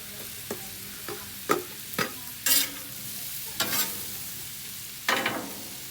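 Cabbage mix and a vegetable mix of broccoli, carrots, squash and cauliflower cooking with butter on a grill, a low continuous sizzle punctuated by several sharp spatula scrapes and clacks at uneven intervals, nearby with no talk.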